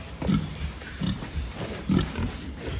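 A pig on a farm being herded onto a scale, giving three low grunts about a second apart, fairly close, with no talking.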